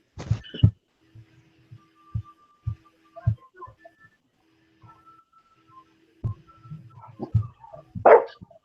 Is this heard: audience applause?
no